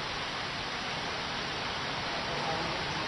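Heavy rain falls steadily on a foggy mountain road in Benguet, a constant dense hiss with no breaks.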